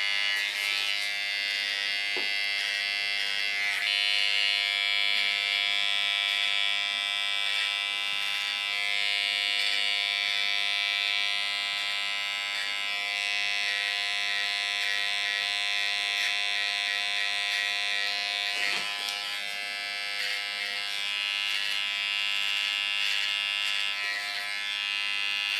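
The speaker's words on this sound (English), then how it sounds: "Tattoo art is the best clipper there is." A Tattoo Art electric hair clipper buzzes steadily and close while cutting a woman's short hair, a continuous bright motor whine with no talk over it.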